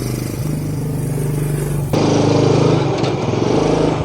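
A motorcycle engine starting up and running steadily at close range, loud and buzzing, with a noticeable step up in intensity midway through as it settles into a rougher idle.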